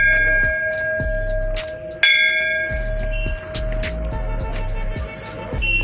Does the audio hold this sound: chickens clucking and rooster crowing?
no